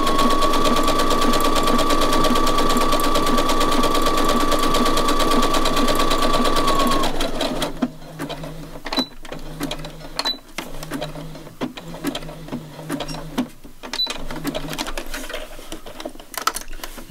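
A sewing machine stitches an ordinary zigzag on fabric for collage, humming loud and steady at close range, then stopping and giving way to quieter clicks and mechanical handling sounds.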